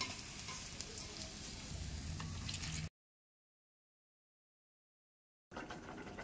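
Pabda fish frying in hot oil, a steady crackling sizzle with faint stirring, cut off by a gap of silence before the sizzle resumes.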